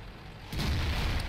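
A tank gun firing in World of Tanks, heard as a single sudden low boom about halfway through that holds as a dense rumbling roar to the end, after quieter game ambience.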